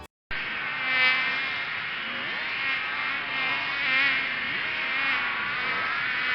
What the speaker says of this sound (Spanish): Dios envió una tercera plaga a Egipto, una peste de mosquitos